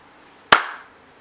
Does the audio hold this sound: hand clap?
yes